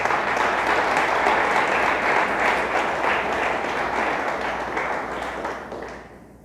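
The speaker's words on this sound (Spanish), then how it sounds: "Dele fuerte el aplauso a nuestro Dios." A church congregation claps loudly for God during a Spanish-language sermon, the thick continuous applause holding strong for several seconds before gradually fading out at the end.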